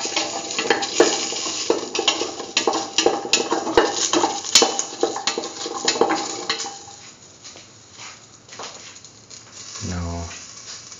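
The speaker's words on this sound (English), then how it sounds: "mix thoroughly" A green tomato and coconut dip is stirred in a pan, giving busy close scraping and clinking of a spoon against metal that thins into softer stirring and a quiet sizzle, with one brief knock near the end.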